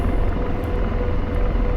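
AH-64 Apache helicopter in the DCS flight simulator spooling up torque, a loud continuous low rotor and turbine drone with a steady rumble, close and unbroken with no speech.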